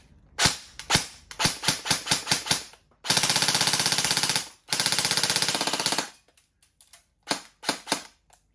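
A CYMA MP5 CM.041B airsoft gun with a metal body and RIS front rail fires, first as rapid single shots, then two long full-auto bursts, then a few more single shots, loud and close with no talking.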